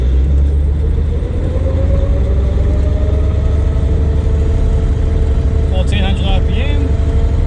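A Toyota Cressida pulls away with a loud, close low engine rumble and a droning grind throughout, while a person talks over it.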